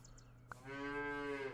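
A cartoon cow in the video game Super Auto Pets lets out a single loud, drawn-out moo with a rising tone, preceded by a short click of game audio.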